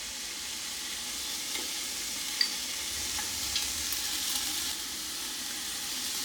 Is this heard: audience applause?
no